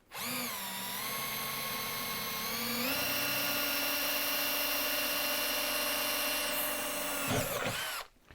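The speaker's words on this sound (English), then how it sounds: "Aluminium, I can actually drill faster than steel." A power drill runs steadily through aluminium angle for a mounting bracket, a loud sustained whine with a pitch step partway through, then stops abruptly near the end.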